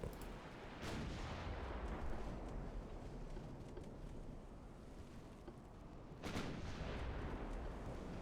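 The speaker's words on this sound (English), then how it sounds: "Right, first spread of torpedoes going out" A spread of torpedoes launches from warships in a naval battle game, heard as faint, muffled booms rising out of a steady rushing wind-and-sea rumble, with two sharper bursts standing apart from the wash.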